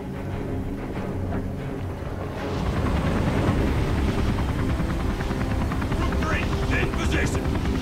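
Attack helicopter flying in a video game, a loud continuous rotor roar that swells after a couple of seconds, with someone talking over it.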